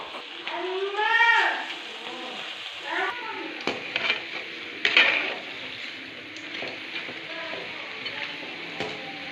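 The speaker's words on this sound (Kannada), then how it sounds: "ಒಂದೊಂದೇ ಬೆಂಡೆಕಾಯಿನ ಎಣ್ಣೆಲಿ ಹಾಕ್ತಾ ಹೋಗ್ಬೇಕು" Okra pieces dropped one at a time into hot oil for bhindi kurkure give a steady frying hiss with sharper bursts as pieces go in; no one speaks.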